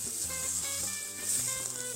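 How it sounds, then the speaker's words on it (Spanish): Flour sautés with onion and asparagus in a pan for a veal and vegetable stew, making a bright, even sizzle that holds steady for a couple of seconds, close up and unaccompanied by talk. "Rehogamos la harina con la cebolla y los espárragos."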